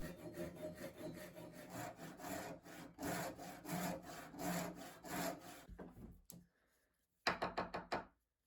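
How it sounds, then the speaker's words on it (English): A Japanese saw cuts a blade slot in wood, with a steady run of close back-and-forth rasping strokes, a brief pause, then a short final burst of strokes. "sawed this with my Japanese saw, which has a kerf that most closely matches the thickness of the saw plate I bought"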